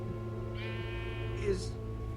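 A sheep spawned from an egg in Minecraft Story Mode bleats once in a drawn-out, wavering call, heard close over a steady low game hum and background tones.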